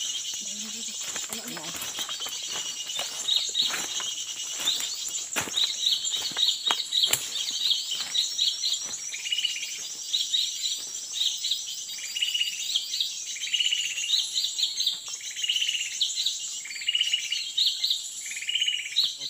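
Several cucak ijo and cucak ranting songbirds call and chirp repeatedly, bright and fairly close, with rapid twittering phrases over faint background rustle and occasional clicks.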